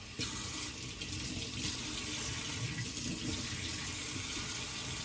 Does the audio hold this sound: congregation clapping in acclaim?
no